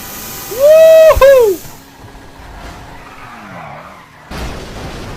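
A Zentorno sports car in Grand Theft Auto skids hard with turbo on, giving a loud, close tire squeal of about a second, then a quieter engine hum and a final burst of noise.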